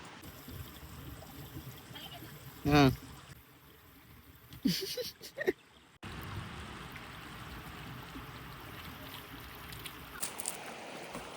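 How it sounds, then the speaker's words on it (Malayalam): Waterfall at Poondi in Kodaikanal, a steady broad rushing roar of falling water throughout, with brief louder bursts of other nearby sounds and faint voices early on. "ഈ സൗണ്ട് കേട്ട വെള്ളച്ചാട്ടം"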